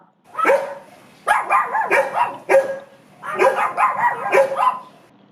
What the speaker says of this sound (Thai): โอ้เสียงอย่างไี้ก็คือ สุนัขนั่นเองค่ะ